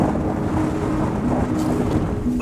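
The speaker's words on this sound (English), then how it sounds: "It's definitely windy." Strong wind roars steadily against a camper van on Iceland's Ring Road in a -15° winter, a dense, unbroken low rumble with no voices.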